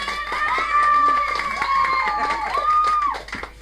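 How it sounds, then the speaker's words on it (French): Loud studio audience cheering and applause for a singer on a French television variety show, a dense continuous crowd roar with a sustained sung or shouted tone running through it, fading at the end. "elle est applaudie très très fort par le studio"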